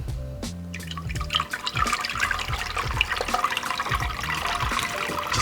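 Water is poured onto a bottom layer of potting soil in a plant pot, making a close, steady splashing and trickling rush that lasts throughout, with no voices.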